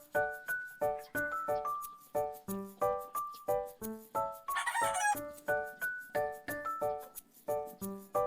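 A gamefowl stag makes repeated short, harsh calls in a quick, steady rhythm, one burst after another, with one longer, louder crow in the middle, close by and otherwise quiet.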